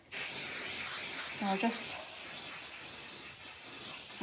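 Aerosol spray can hissing onto fabric pieces for a sewn shopping basket, a steady close spray lasting several seconds, with a brief spoken phrase over it.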